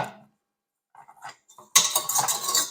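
A stand mixer's metal whisk attachment is handled, with a few light clinks followed by a burst of dense metallic rattling and clattering, close by.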